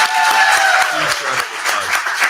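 A live-show audience in Savannah claps in a dense, sustained burst of applause with a few voices mixed in, close and fairly loud.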